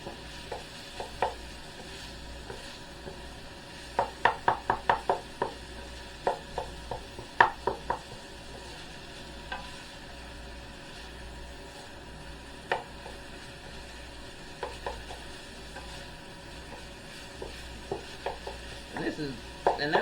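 A wooden spatula knocks and scrapes in a pan, chopping up browning egg-cup filling. Quick rhythmic taps come in clusters over a steady sizzle, close by, with no talking.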